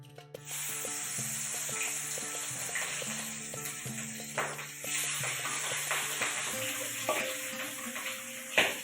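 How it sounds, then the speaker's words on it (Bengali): Hilsa fish fry in hot oil in a wok, giving a steady bright sizzle with small pops and crackles all the way through. "এখন আমি মাছগুলোকে ভেজে নেব।"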